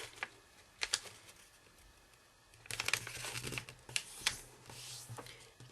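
Origami paper folded and unfolded for a Tyrannosaurus model, with crisp crinkling bursts and creases in short clusters, close and fairly quiet.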